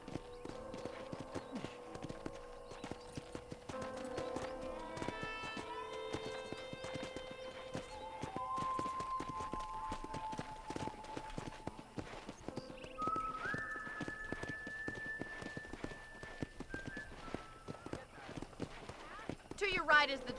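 Horse hooves clip-clop at an even walking pace in the video game Red Dead Redemption, continuous throughout, with soft melodic tones and muffled voices in the background.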